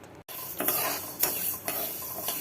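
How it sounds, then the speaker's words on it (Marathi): Moong dal being dry-roasted and stirred in a pan before making jaggery laddoos, a close scraping and rustling of spoon against metal with a few stronger strokes, no voices. "डाळ भाजून होत आलेली आहे थोडीशी अजून खरपूस करायची"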